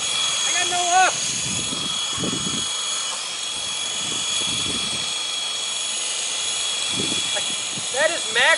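A battery-powered model helicopter runs at max throttle as a steady whine and hum that stays constant throughout, with people talking over it at intervals.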